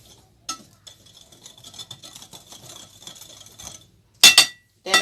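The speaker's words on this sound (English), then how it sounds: "Then I'm going to whisk it together." A whisk stirs a sugar mixture in a bowl for apple cake batter, giving a steady soft scraping swirl for several seconds near the mic, then a few loud sharp clinks against the bowl at the end.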